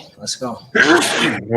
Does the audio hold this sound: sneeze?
yes